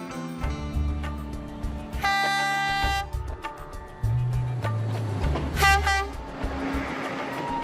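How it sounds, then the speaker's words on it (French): Train on Sri Lanka's Main Line heading into the mountains, with loud horn blasts over the rumble and clatter of wagons rolling past, close by, with no voices. "Deux trains de la Main Line se rendent chaque jour dans les montagnes."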